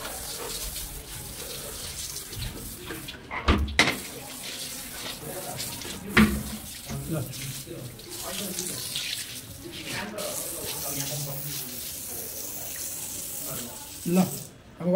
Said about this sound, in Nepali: ब्रस पानीले सफा गरिदिनु